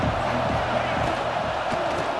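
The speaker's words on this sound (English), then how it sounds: "This crowd bringing the energy and noise early." Football stadium crowd at Ohio State versus Notre Dame, a steady loud roar of many voices filling the whole moment with no break.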